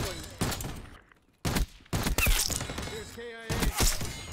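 Bursts of gunfire from the first-person shooter Black Ops 6 come in rapid, sharp clusters separated by short gaps, with faint voices underneath.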